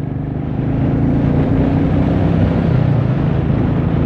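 A Royal Enfield Meteor 350 motorcycle's 350cc engine and exhaust give a steady, loud, close rumble that holds throughout with no talk over it.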